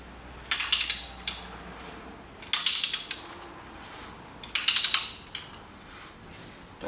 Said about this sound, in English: I'm cutting a 3/4 inch BSPT thread, taper thread